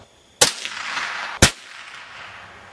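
.22 caliber long rifle rimfire shots ring out, two sharp cracks about a second apart, each trailing a brief echoing decay.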